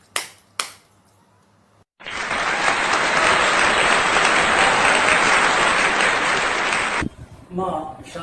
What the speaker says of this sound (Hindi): दोहों के सम्राट आदरणीय कवि, मशहूर कवि सुनील रांगा जी का हम जोरदार तालियों से अभिनंदन करते हैं